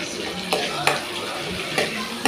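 Green sundakkai (turkey berries) sauté with garlic and onion in a pan, a close hiss broken by several crisp stirring scrapes and clicks.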